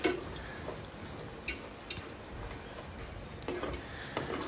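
Ingredients frying in oil in a pan on a village kitchen stove, a soft continuous sizzle with occasional light stirring clicks and scrapes, fairly faint and close, no voices.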